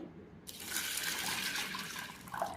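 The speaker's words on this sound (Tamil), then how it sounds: "தண்ணி விட்டு நல்லா அலசிட்டு" Tap water runs steadily into a sink while chana dal is rinsed, a continuous close splashing wash that starts abruptly and carries on alone without talk.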